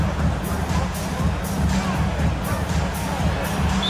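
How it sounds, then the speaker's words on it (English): A basketball arena crowd roars and cheers after a dunk in a Cavaliers game, a dense, steady wash of distant voices with faint babble throughout. "this crowd is in all of that Mitchell dunk"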